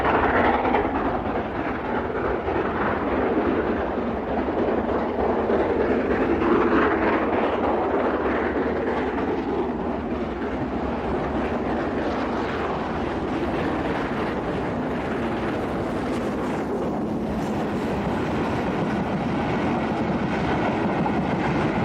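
A steam locomotive rolls past a suburban London Underground station at Dollis Hill on a rainy day, a steady broadband rumble and rush of the passing train with no talk.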